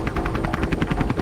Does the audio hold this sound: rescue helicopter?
yes